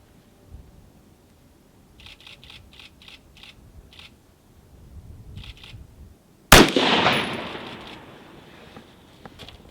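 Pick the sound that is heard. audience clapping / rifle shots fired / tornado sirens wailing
rifle shots fired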